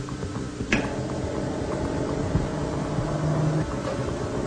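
An electric motor on a free-energy rig starts and runs, a steady low drone with a faint rising hum over broad mechanical noise, after a single sharp knock near the start.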